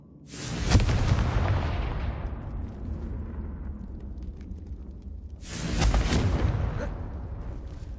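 Two heavy booming blasts from the Confringo fire spell in Hogwarts Legacy go off several seconds apart, each roaring loudly and rumbling off in a long decaying tail.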